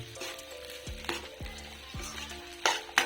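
Sabudana khichdi is stirred in a pan, with a soft sizzle and repeated spoon scrapes in an uneven rhythm, ending in a couple of brighter metallic clinks.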